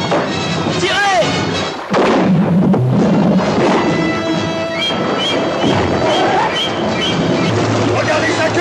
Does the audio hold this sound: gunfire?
yes